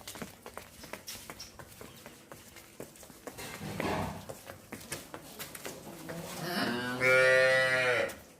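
Loud, drawn-out Jersey cow moo rising near the end, preceded by shuffling hoof and footstep sounds and scattered knocks in a barn.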